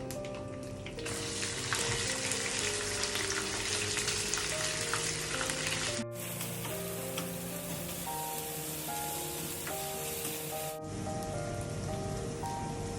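Ginger, garlic and green chilli paste fries in a pan for a Kerala-style beef pickle, a dense, even crackling sizzle that runs steadily throughout, with a sustained musical tone playing over it.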